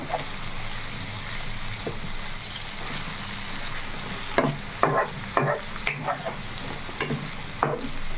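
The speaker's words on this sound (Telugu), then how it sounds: "chicken fry" Chicken joint fry roasts in a pan with a loud, steady sizzle throughout, joined in the second half by a run of quick, repeated stirring scrapes and clanks up close.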